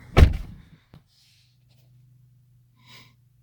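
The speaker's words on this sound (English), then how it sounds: "so you open the door." A 2019 Corvette Stingray door opens with a sharp, close latch release and a short rush of air, then a small thunk just before one second. After that it goes nearly silent, with one faint soft sound near the end.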